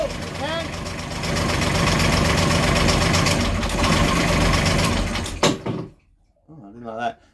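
A Beta 25hp marine diesel with a knock at 700 hours runs at a steady idle, rising slightly when revved, then cuts off, followed by a short voice nearby.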